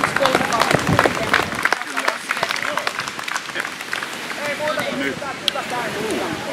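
A crowd at the Anianpelto market in Vääksy applauds the girls competing for the maiden selection, a burst of close, loud clapping that thins out as a voice speaks over the crowd.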